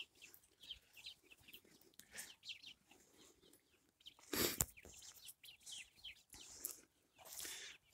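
Free-range hens clucking softly nearby in short bursts, with one louder squawk midway and scattered rustling in between.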